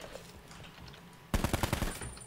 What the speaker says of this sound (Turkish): Silah denemesi yaptım sıkıntı yok.